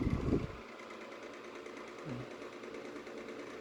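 A GE Standard 10-inch oscillating strap desk fan runs with a steady, soft mechanical whir, heard close and fairly quiet after a brief louder thump at the start.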